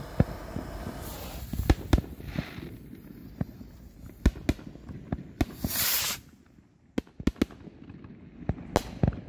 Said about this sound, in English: gonna send a green Orbital Bomb by United Pyro